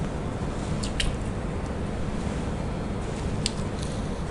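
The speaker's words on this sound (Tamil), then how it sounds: "அதையும் ஆட் பண்ணிவிட்டு நம்ம நல்லா தண்ணி விட்டு பிசைஞ்சிக்கலாம்" Wet squishing of rava and rice murukku dough being kneaded by hand with water, a steady muffled mash with a few soft sticky clicks, close and alone.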